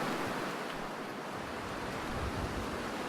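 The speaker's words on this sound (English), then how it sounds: "It's too windy." Steady, broadband wind roars without a break through the cold outdoors of the survival video game The Long Dark, a loud, gusting rush that swells slightly near the end and fills the scene alone.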